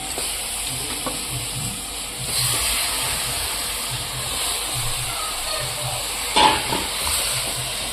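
Chicken frying in a spiced onion masala in a pot, a steady close sizzle and hiss with a few stirring clanks and a brief louder burst partway through.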